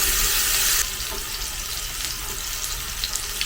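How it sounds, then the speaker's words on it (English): Japanese A5 wagyu beef sizzles loudly and steadily on a hot grill, a constant crackling hiss that drops slightly in intensity after the first second. "I don't know if you can hear that sizzle."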